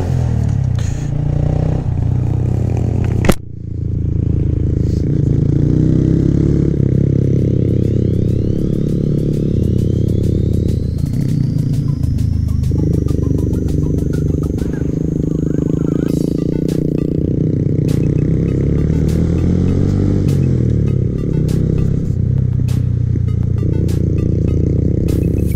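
A Honda Grom and a Kawasaki Z125 ride in steady, nearby engine drone with shifting pitch as gears change and throttle varies, plus wind and road noise, continuous for the whole stretch.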